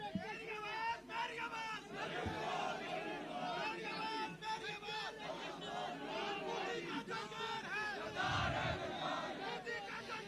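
A large crowd at a PMLN political convention chants slogans in loud, rhythmic unison, with shouted phrases rising and falling over a dense hubbub of voices, heard close and full.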